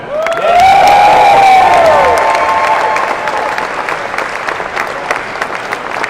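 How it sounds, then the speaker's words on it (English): Loud, sustained applause from a large conference audience in Amsterdam with cheering and whistles, swelling at first and then settling into steady clapping. "Please big applause for them."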